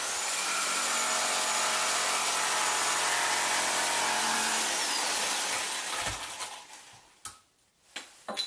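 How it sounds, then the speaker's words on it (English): A power saw runs loud and steady for about six seconds while cutting a slot in wood for a homemade saw table, then winds down. A few sharp knocks follow. "and I need to cut a slot here."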